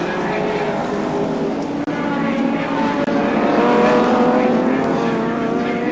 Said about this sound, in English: 6th place car number 8, which is the Warren Cullen Alan Jones car after its pit stop